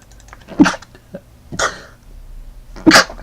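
Three short sneeze-like bursts in a row, spaced about a second apart, sharp and close with a breathy attack, set against a faint background hum from a game.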